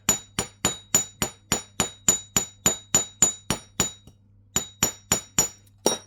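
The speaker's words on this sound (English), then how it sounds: "So just keep hammering" Steel hammer striking thick metal wire on a hard block to flatten it for a pendant: about sixteen sharp ringing clinks in a steady rhythm, with a short pause before the last few strikes, close and clear without talk.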